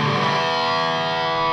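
Electric guitar played through a Vox MV50 boutique amp with a distortion pedal, a loud sustained distorted chord ringing out thick and steady for the whole moment with no talking.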